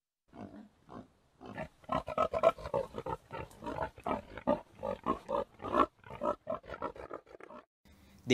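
Rapid, rough grunting and snorting from pigs, close and continuous in choppy bursts over several seconds.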